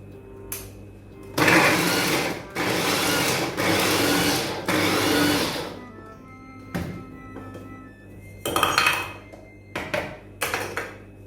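A Kerala-style mixer grinder whirs through amla, green chilies and coconut in several loud pulses of a few seconds each, separated by pauses, then shorter choppy bursts near the end.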